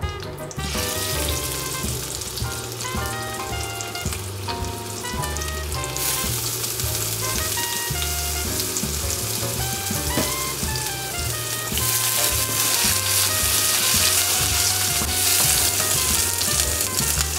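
A few asparagus spears roast in hot olive oil in a pan, crackling and sizzling loudly and steadily with some stirring clatter, growing a bit brighter toward the end, with no one talking.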